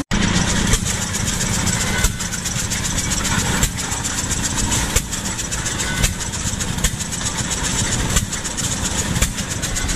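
A 25 horsepower engine runs at a 2018 steam engine show in Edgar, Wisconsin, chugging loudly and close by with heavy, evenly spaced firing beats roughly every second or so over a constant mechanical rumble.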